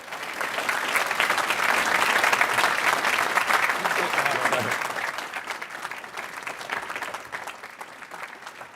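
Sustained applause from a large audience at a Caltech commencement welcoming Elon Musk, dense clapping that swells and then slowly tapers, with crowd noise mixed in.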